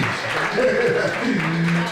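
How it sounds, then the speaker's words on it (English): Audience applause for a guest at a talk, a dense steady clatter of many hands sustained throughout, with voices mixed in over it. "let's give a good brother a round of applause"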